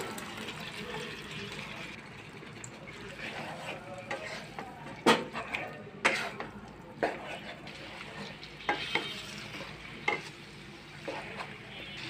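Beef liver sizzling as it goes into oily, well-fried masala, a steady low crackle with a few sharp spoon clinks and scrapes against the pan.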